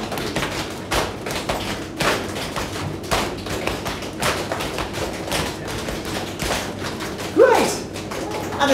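Hands slap out a rhythmic body-percussion pattern on the knees in the style of Bobby McFerrin, a steady stream of soft thuds and taps from a group in a hall, with faint murmurs underneath.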